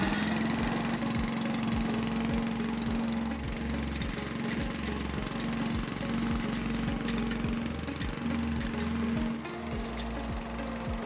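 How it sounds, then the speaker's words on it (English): A Cobra WV580SPL wheeled garden vacuum's petrol engine runs steadily and loudly close by, a continuous chugging drone with a rhythmic pulse throughout. "if the engine's cold, it might take a couple of pulls to get it started"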